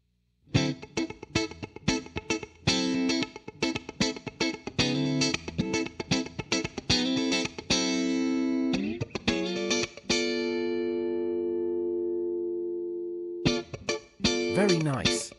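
An electric guitar runs through the compressor of an MXR Omni II multi-effect, with funky staccato chord stabs and picked notes followed by a long sustained ringing chord that fades slowly, then a few more stabs.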